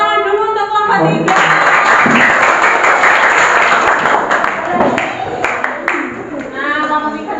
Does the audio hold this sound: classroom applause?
yes